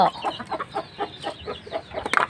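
Chickens on a small farm cluck in a quick, repeating series of short calls, close by, with a louder squawk near the end and no talk.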